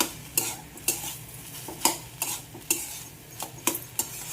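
A spoon stirs and mixes a vegetable chop mixture, sweetened with a little sugar, in a pan. The spoon makes repeated sharp scraping clicks against the metal at a steady rhythm of about two strokes per second, close and clear.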